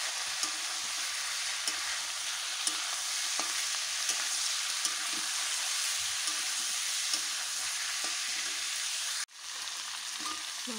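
Chicken being stirred with turmeric powder in a hot pan. A steady, close sizzle runs throughout, punctuated by regular scraping clicks of the spoon, with a brief dip near the end before the frying noise resumes.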